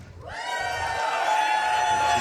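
Crowd at the Awesome Games Done Quick 2025 speedrun charity event for Skyrim swells into loud, sustained cheering and whooping that rises quickly and holds.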